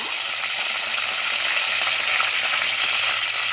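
Curry leaves, chillies and garlic hit hot oil for a Maharashtrian dry masala, giving a steady, close, even sizzle with a constant hiss and no pauses.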